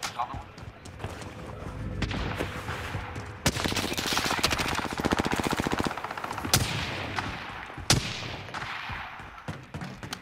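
Rapid gunfire from a Call of Duty Warzone Rebirth match: sustained automatic bursts and several sharp, loud single shots, including sniper fire, layered over dense in-game noise with players talking throughout.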